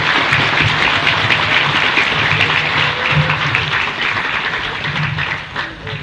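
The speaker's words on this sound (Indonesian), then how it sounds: "Tepuk tangan paling meriah buat orang tua kita." Loud, sustained audience applause at an Islamic sermon, given in honour of parents, a dense continuous roar of many hands clapping together, close and steady for several seconds.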